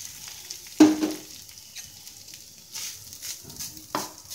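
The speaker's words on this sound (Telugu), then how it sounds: "నెయ్యి హీట్ అయిన తర్వాత కొబ్బరిని వేయించుకోవాలి." Grated coconut frying in ghee in a thick pan for coconut burfi gives a quiet, steady sizzle close by, with a few sharper scraping stirs standing out at intervals.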